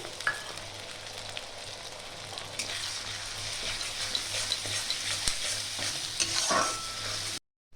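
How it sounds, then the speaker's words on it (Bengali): Onion frying in a pan with ginger-garlic paste, stirred steadily: continuous close sizzle with scraping strokes of a spoon for several seconds, then a sudden stop. "পেঁয়াজটা আমি হালকা করে ভেজে নেব। দিয়ে দেবো আদা রসুনের পেস্ট"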